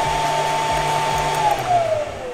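Taski Swingo XP-R stand-on autoscrubber running at maximum water, pressure and vacuum: a steady loud motor whine with a drifting tone and rhythmic low thumps, alone.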